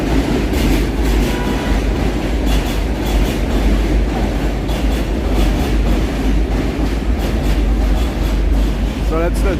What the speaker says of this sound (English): So that's the MTA, the train.